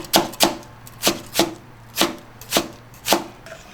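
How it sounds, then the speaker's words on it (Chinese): A knife dices onion on a chopping board in a home kitchen, about eight crisp close chops in an uneven rhythm, each a sharp knock on the board, with no talk. "再把洋葱切成丁"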